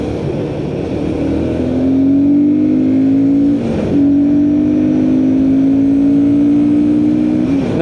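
A Royal Enfield Guerrilla 450 roadster motorcycle engine holds a steady, loud drone at high speed, its rising tone dipping briefly midway before climbing again, with no talking.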